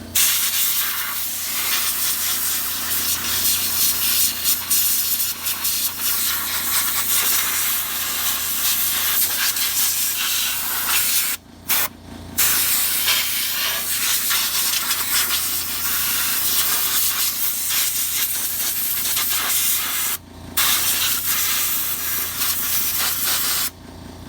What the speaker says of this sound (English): we're going to hit it with a little bit of air to make it dry quicker